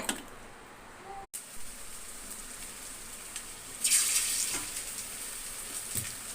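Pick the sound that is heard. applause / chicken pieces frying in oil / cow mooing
chicken pieces frying in oil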